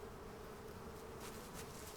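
Bees buzzing steadily around a flower beside a manure composter in the survival video game Rust, a close, continuous insect drone that holds even throughout with no talking.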